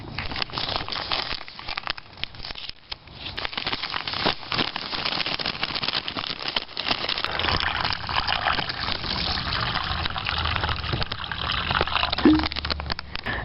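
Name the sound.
water poured into MRE orange drink pouch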